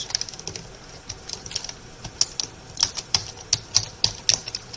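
Typing on a computer keyboard, a run of sharp, irregular key clicks that grow denser and louder toward the end, heard alone at close range.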